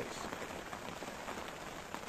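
Rain pattering steadily on an umbrella beside a flooded river, a soft, dense hiss of countless small drops at low volume with no talking.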